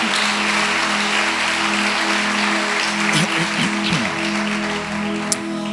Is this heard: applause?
yes